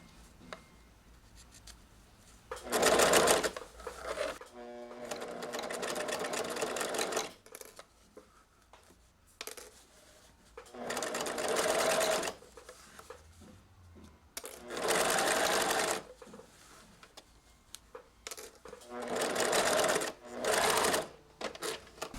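A sewing machine stitches binding close to the edge of a bolero armhole in several short bursts of close, whirring, rapid needle clatter, separated by quiet pauses with faint handling of fabric.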